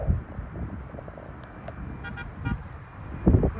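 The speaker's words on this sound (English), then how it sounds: "Cars are honking." Car horns toot in short, faint bursts at a distance near an airport, scattered over low traffic rumble.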